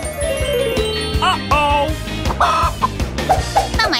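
A chicken clucking loudly and repeatedly, with some crowing-like calls and a faint jingle behind, over a busy background.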